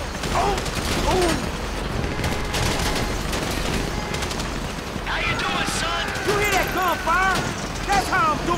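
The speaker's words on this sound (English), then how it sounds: "So I guess we're shooting our way out of here." Heavy gunfire in a GTA 5 bank robbery shootout, with dense, continuous bursts of automatic fire and booms filling the clip while several voices talk and shout over it.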